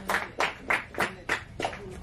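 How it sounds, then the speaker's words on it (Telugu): Roughly six separate claps in steady rhythm at a film production opening press meet, close and fairly loud, sounding like a few people rather than a full crowd. "ఒకసారి గట్టిగా చప్పట్లు"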